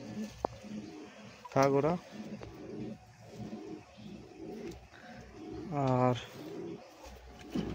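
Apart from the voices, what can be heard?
satin and lakkha pigeons cooing near their chicks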